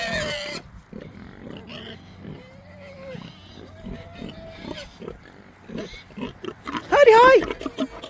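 A mother pig, a sow penned with her piglets on a farm, gives low grunts through the stretch, close by, with people talking over them and a louder squealing burst near the end.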